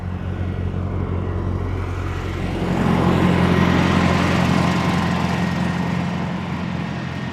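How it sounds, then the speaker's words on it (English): Airport tractor passing at Amsterdam Schiphol Airport, a steady engine rumble that swells as it draws near and then holds, continuous and fairly loud with no talk. "Another tractor coming this way, which you will see once it has passed."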